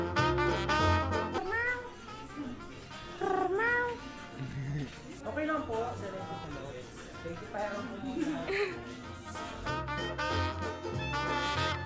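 A cat meows repeatedly, long drawn-out wails close by, mixed with people talking and laughing.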